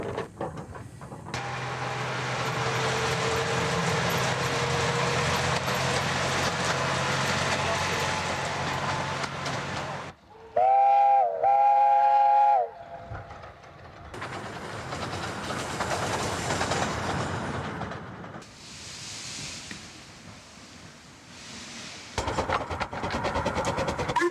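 A steam train rumbles along steadily, then a loud whistle sounds in a few short blasts before the chugging and clatter resume, on the Ravenglass railway in Cumbria.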